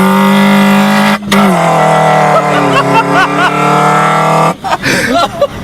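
A car engine fitted with a cold air intake drones loudly and steadily under throttle, shifting pitch twice with brief breaks, while people talk over the engine noise.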